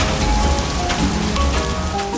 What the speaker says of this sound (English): we experience showers of rain that help plants grow and keep everything fresh